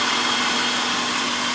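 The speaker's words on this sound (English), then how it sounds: "This engine is running really smoothly now." A Honda Accord V6 engine idles steadily after an ignition coil replacement, giving a loud continuous hum with a constant tone and no talk.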